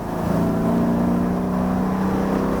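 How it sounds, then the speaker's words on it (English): A 2009 Dodge Challenger R/T's V8 gives a deep, steady, loud rumble from inside the car, holding an even drone with no talk over it. "you just get that V8 rumble"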